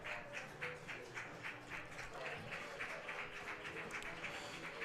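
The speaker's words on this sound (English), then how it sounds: "Harris walks off to some applause from the Creighton Prep parents and students" Scattered applause from parents and students at a varsity high school baseball game as a pitcher walks off, faint and distant under an open-air crowd murmur.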